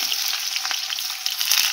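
Chopped onion and garlic frying in hot oil, a loud, dense close-up sizzle with steady crackling and a small knock toward the end.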